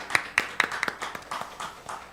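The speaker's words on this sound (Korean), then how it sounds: "우리 하나님과 주님께 감사와 영광의 박수를 드리겠습니다." Church congregation clapping in praise, with a handful of distinct claps in a loose rhythm that thin out and fade over a couple of seconds.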